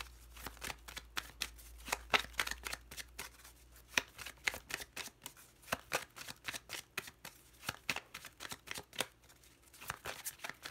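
Lenormand cards are shuffled by hand in a quiet room, a long run of crisp, rapid riffling flutters and soft slaps repeating steadily for about ten seconds.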